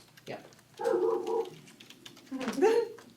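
A dog barks a few times in a home during an online town selectboard meeting, two or three short muffled barks with faint keyboard tapping between them.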